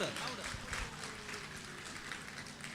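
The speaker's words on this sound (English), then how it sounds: "Now, I would like to give a bigger round of applause." A large audience claps and cheers at a corporate event in the UAE. The applause is dense and steady for the whole stretch, with voices mixed into the crowd noise.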